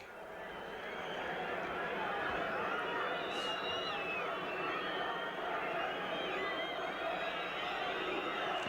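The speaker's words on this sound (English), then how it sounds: "the crowd now whistling for time" A 1992 football crowd at Port Vale versus Blackburn Rovers whistles for full time, a distant, sustained mass of shrill whistles over the low roar of the stands.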